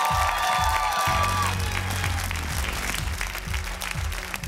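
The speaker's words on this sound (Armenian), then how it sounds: "Ծափարություններով ճանապարհում ենք Ձոմին։" Television talent show audience clapping as a contestant leaves, continuous loud applause over a rhythmic backing track and occasional cheers.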